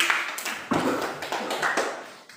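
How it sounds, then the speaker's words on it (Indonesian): Classroom applause for a student group that has just finished a presentation, a burst of hand claps from a room of students that swells and fades over a couple of seconds, with no talking. "tepuk tangan untuk kelompok 3 sudah presentasi"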